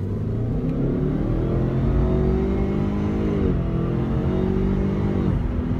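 Heard from inside the cabin, a Subaru Levorg wagon accelerates hard. A loud, steady engine drone rises in pitch through the gears, with a brief dip at a gear change, and no one speaks.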